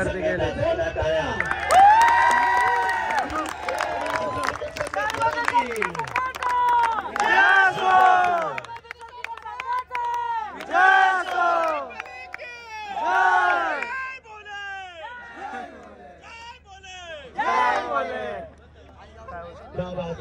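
A village crowd celebrates a championship trophy win in Kiravli, with loud sustained cheering, whoops and overlapping shouts rising in waves, plus excited voices and children's yells across the whole stretch.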